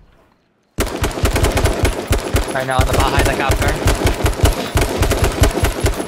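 Rapid bursts of automatic gunfire fired at a cop car during an H1Z1 King of the Kill firefight, loud and close with a steady rattling rhythm after a quiet start, while a player speaks briefly over the shots.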